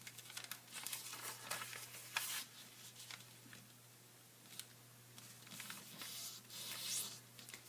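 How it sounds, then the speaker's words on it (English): Origami paper is folded and creased by hand, giving soft, quiet crinkles, rubs and brief crisp snaps at irregular moments over a low steady hum. "fold to find my horizontal and vertical creases"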